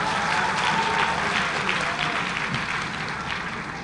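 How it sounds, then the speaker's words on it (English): Steady applause from a crowd at a graduation ceremony for teachers' college graduates in Jamaica, broad and sustained, slowly easing off toward the end. "Let's give them a round of applause"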